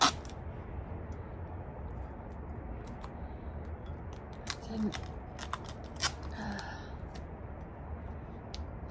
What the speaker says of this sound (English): So I'm going to tape the bottom like this.